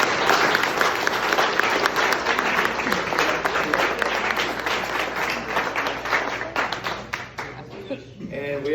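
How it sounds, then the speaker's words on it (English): A room full of people at a high school baseball banquet gives a round of applause, loud, dense clapping that holds for several seconds and then thins out, with voices underneath. "Let's give them a round of applause."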